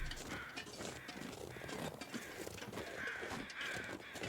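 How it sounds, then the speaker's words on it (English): Crows caw a few times over a steady outdoor ambience in the video game The Long Dark, with harsh calls repeating at irregular intervals at moderate distance. "We got some crows."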